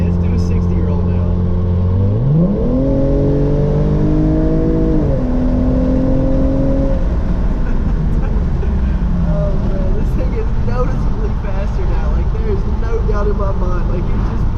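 Hyundai Genesis Coupe 3.8 V6 with an AlphaSpeed tune accelerating hard from inside the cabin, a steady loud engine drone rising in pitch through the pull and then settling, with talk over the top.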